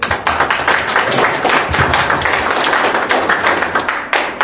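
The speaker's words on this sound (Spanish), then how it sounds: "Muchísimas gracias por ese voto de aplauso realmente merecido" An audience at a talk during a cultural festival claps in dense, steady applause. The clapping is loud and close, and the many hands blend into a continuous patter that thins slightly near the end.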